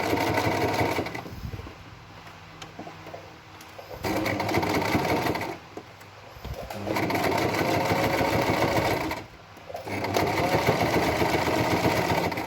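Sewing machine stitching a halter-neck top seam in bursts of steady whirring running, separated by short pauses, close and loud.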